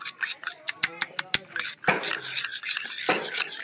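A spoon clinks sharply against a bowl in a quick run of metallic taps while sugar is stirred into shampoo, then gives way to grittier scraping and stirring, close up.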